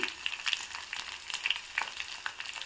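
Tempering seeds, curry leaves, sliced onion and garlic cloves crackle and sizzle steadily in hot oil for a cauliflower pickle, a close, continuous frying hiss with small pops and no talking.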